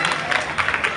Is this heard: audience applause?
yes